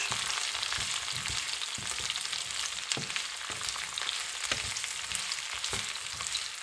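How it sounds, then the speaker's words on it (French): Onions, peppers and mushrooms sauté in a hot pan for Malaysian shrimp fried noodles, a steady close sizzle broken by repeated scraping stirs. "Je vais mettre les oignons, les poivrons et les champignons. Je mélange."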